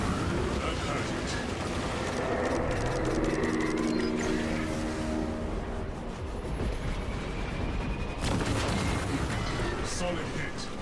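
Defense cannons fire at the Hierophant in the game Darktide, heavy booming blasts and rumbling impacts layered over dense mechanical battle noise, with a voice talking over the din.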